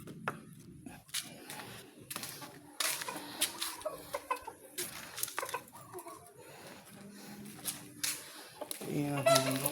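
Chickens cluck on a backyard farm at fairly close range, irregular bursts of clucking and squawks over faint background noise, with a person talking intermittently.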